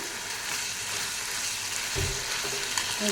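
Chicken gizzards fry hard over a high flame, a dense, steady sizzle with a few louder crackles and stirring noises near the end.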